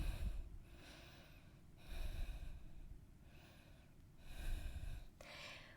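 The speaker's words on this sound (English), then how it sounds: "Couple of breaths here." Soft, slow breaths taken while holding a Pilates ab stretch, with three or four faint airy swells rising and falling at a steady, unhurried pace in a quiet room.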